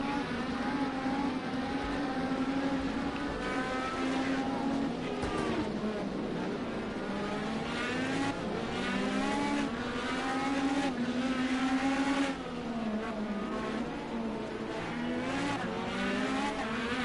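IndyCar race cars in the racing game Project Cars 2 roar past in a continuous high engine whine, pitch rising and falling through gear changes and passes, no talk heard.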